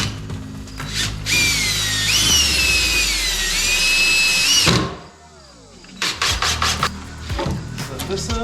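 A power drill whines steadily as it drives overly long screws into 2x6 lumber, the motor pitch shifting under load, then stops before several shorter bursts of drilling and wood handling follow.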